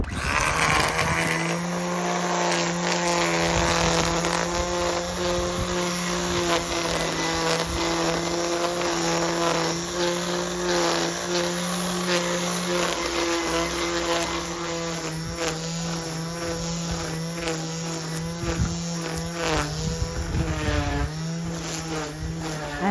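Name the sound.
battery powered hover lawn mower (fly mow) mowing lawn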